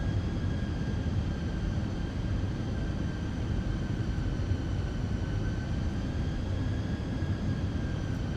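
Steady jet engine drone of a Boeing 737 airliner on approach in a flight simulator, a constant low rumble with faint whining tones above it, unbroken and even throughout.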